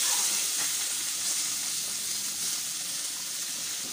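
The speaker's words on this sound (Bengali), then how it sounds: "শিম ভালোভাবে ভেজে নিচ্ছি" Flat beans (shim) frying in oil in a pan give a steady, dense sizzle that holds loud and even throughout, with faint scraping of stirring underneath and no voices.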